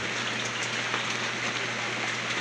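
Steady rain falling on a surface, a continuous even hiss with small scattered drop patters, close and moderately loud, with no talk.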